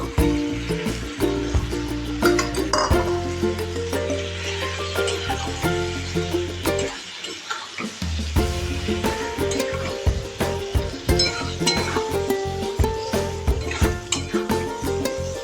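Mashed fish roe stirred and fried in a pan: continuous scraping and clinking of the utensil with light sizzle throughout, under steady background music, no talking.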